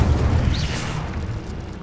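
Incendio fire spell blast in Hogwarts Legacy, a short whooshing burst with a low boom that swells quickly and then fades into a rumbling tail.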